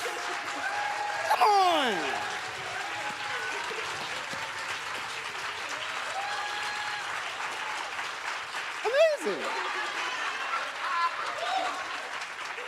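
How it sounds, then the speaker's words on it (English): An audience at a literary activism summit applauds poet Stephanie Pacheco with sustained, full-room clapping, while a host's excited voice and scattered cheers ride over the top. "you deserve all that applause and more, Stephanie"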